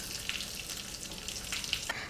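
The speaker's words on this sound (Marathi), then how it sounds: "मोहरी छान तडतडली की यामध्ये जाईल चिरं हिंग कढीपत्ता आणि चणा डाळ आणि उडदाची डाळ" Mustard seeds, asafoetida, curry leaves, chana dal and urad dal frying in hot oil for a tempering, a steady crackling sizzle with a few sharper pops, heard close and alone.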